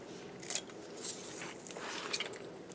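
Scissors snip a small piece of Velcro in a home sewing and craft area, giving two quiet, crisp cuts about a second and a half apart against a soft background hiss.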